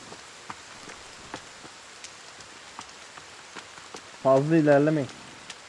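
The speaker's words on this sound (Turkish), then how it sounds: "Kanka yağmur yağıyor." Rain falls in a survival video game as a soft, steady patter of scattered drops, with a brief spoken line near the end.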